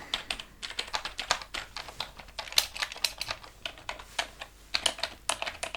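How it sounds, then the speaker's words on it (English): Rapid, irregular clicking of fingers typing on a computer keyboard, close and crisp, with bursts of keystrokes and brief pauses, no talking. "just let me type in the results"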